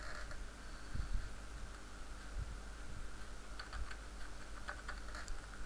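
Code typed on a computer keyboard, a close, quiet run of irregular key clicks in short bursts with brief pauses between them.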